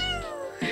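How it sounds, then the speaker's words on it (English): A house cat meows close by, one short cry followed by a second brief meow after a pause, with no talking. "That's my cat."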